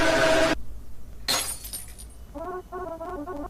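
A glass bottle drops and shatters in a loud, sharp burst, followed by a second crash of breaking glass and scattered tinkling shards settling, with a faint tonal ringing afterward.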